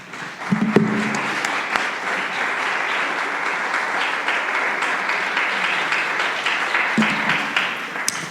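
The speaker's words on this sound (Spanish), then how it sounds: "Dele un aplauso al Señor por eso." Church congregation applauding during a pastor's sermon, a broad steady roar of clapping that holds for several seconds with a couple of sharp louder claps near the start and end.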